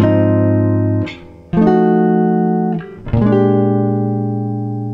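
Three sustained, rich bebop jazz chords ring out one after another, each allowed to hang for a second or two before changing.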